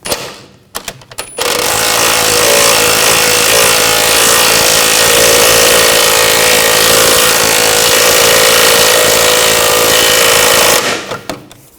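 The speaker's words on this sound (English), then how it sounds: "Now tighten this bolt down." Bolt being tightened on the rear wheel hub of a 2000-2006 BMW X5, a loud, steady power-tool whir running unbroken for about nine seconds, framed by a few sharp clicks and knocks before and after.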